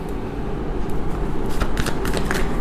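A deck of tarot cards being shuffled nearby, a fairly dense run of soft papery riffling and flicking that grows busier toward the end, with no voice over it.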